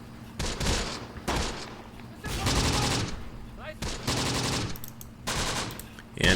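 Bursts of automatic weapons fire from the World War II strategy game Close Combat: The Bloody First crackle in several long volleys separated by short pauses, loud and fairly close.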